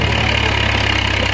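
A Massey Ferguson 480 tractor's engine idles while the tractor sits stuck with a trailer tyre washed out, a loud, close, steady diesel rumble with an even low throb.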